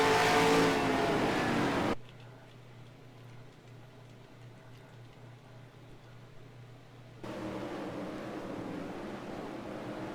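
A race car engine lapping Watkins Glen in a racing video game: a loud, rushing drone that cuts abruptly to a low hum, then returns at moderate strength. No one speaks.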